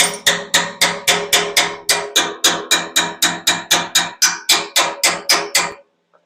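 A hammer taps warm, freshly welded steel gussets on a flag pole, about twenty sharp metallic strikes in a steady, even rhythm, loud and close, with no talking.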